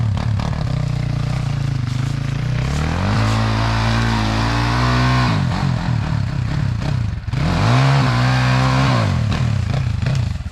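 A Yamaha motorcycle revs and labours along a dirt trail, its engine loud and close the whole way through, pitch rising and falling as the throttle opens, with a brief dip near the middle.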